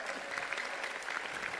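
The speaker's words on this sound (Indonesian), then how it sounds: "Kita iringi dengan tepuk tangan yang meriah." A crowd at a political party gathering bursts into lively applause, a short, dense, steady spell of clapping at moderate loudness.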